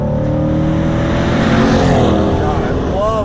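Engine of a Chevrolet C8 Corvette during break-in, pulling steadily under acceleration while kept below redline, a sustained close drone with rising harmonic tones near the end, a voice talking over it.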